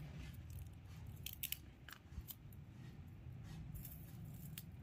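Tape being cut with scissors for a long kite tail: a few faint, quick snips and crisp clicks over low background hum, with no talking.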